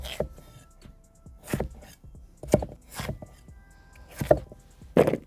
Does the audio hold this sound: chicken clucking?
no